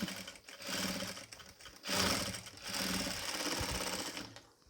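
A sewing machine stitches piping onto a nighty, its rapid mechanical whirring running in close, loud bursts with short pauses and a brief stop near the end; no voices.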